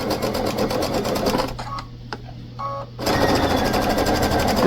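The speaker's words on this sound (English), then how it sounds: "I'm just going to finish sewing this" A sewing machine stitches a drawstring casing on a fabric bag, running steadily and fairly loud, with a break of about a second and a half in the middle before the motor hums on again.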